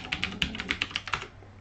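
A computer keyboard clicks under quick typing, about ten crisp close keystrokes in an uneven burst before falling quiet.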